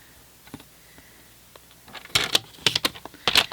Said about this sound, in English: lining that up in the trimmer to trim that down